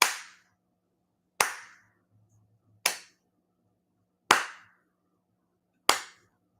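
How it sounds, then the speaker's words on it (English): Five slow, evenly spaced single hand claps, sharp and fairly close, about a second and a half apart, with quiet pauses between. "Slow golf clap for you."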